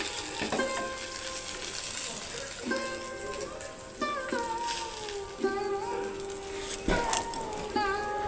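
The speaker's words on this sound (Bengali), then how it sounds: "দিয়ে ঢাকা দিয়ে এটাকে আমি উল্টে পাল্টে ভেজে নেব।" Chicken pieces for chicken paturi fry in a pan, a steady sizzle running beneath tonal voices, with a few sharp clatters along the way.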